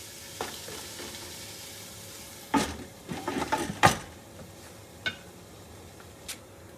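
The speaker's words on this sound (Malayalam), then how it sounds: "അതുകൊണ്ട് ഇടയ്ക്കൊന്ന് തുറന്ന് ഇളക്കി കൊടുക്കാം" Chicken sizzles softly in a pot while a spoon stirs it, a quiet steady frying hiss punctuated by several sharp scraping knocks against the pot's sides and a few isolated clinks.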